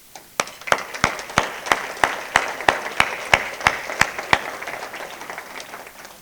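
An audience at an annual chamber of commerce awards event gives a round of applause, heard as a dozen or so loud, evenly spaced claps in a steady rhythm that trail off into softer scattered clapping.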